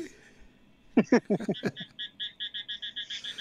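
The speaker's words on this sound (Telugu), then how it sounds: "ఎట్లా అరుస్తుంది ఏందాకప్ప" A few deep, rough croaks burst out, then a quick, regular run of higher frog calls follows, close and clear against a quiet background.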